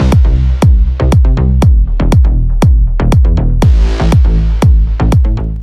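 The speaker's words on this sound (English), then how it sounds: "I also added a bass stab to emphasize the one." Punchy synth bass stabs repeat in a steady driving pattern, short bright hits landing over a thick low-end groove.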